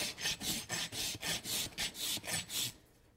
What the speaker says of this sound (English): using this uh, Bellota rasp, I'm going to get that as flat as I can